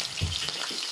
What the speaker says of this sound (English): Now we'll flip our fish.